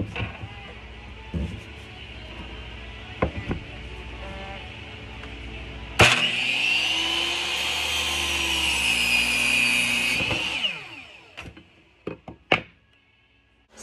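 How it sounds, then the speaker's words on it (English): A handsaw cuts through lumber for a bathroom wall's base plate and stud framing: about four seconds of steady, loud back-and-forth strokes, bracketed by scattered knocks and handling thumps before and after. "I'm going to cut those pieces of wood and get them in place"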